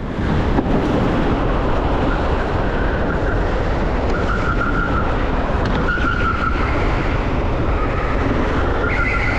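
Go-kart engines roaring on the TeamSport Warrington indoor track during a 40-lap practice race, a loud continuous drone with rising and falling pitch as karts jostle for position before the fast straight.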